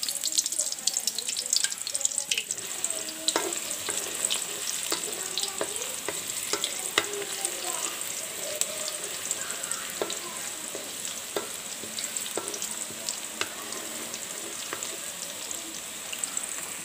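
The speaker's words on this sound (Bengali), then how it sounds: "এখন আমি বড় একটা কড়াইয়ের মধ্যে তেল দিয়ে দিলাম পরিমাণ মতো, দিয়ে রসুন কুচিগুলো দিয়ে দিলাম।" Chopped garlic fries in oil in a large wok, a continuous sizzle broken by clinks and scrapes of stirring, with faint water and kitchen noise behind.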